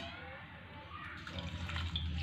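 Flaxseed rinsed in a strainer under running water, a steady close wash of splashing and trickling that grows fuller and louder in the second half.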